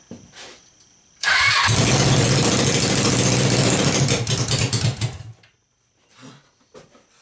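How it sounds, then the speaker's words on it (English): Two-cylinder Suzuki engine cranking and catching, running loud and rough on both cylinders for about four seconds before cutting out, followed by faint workshop noise. "At least it's firing on both cylinders this time."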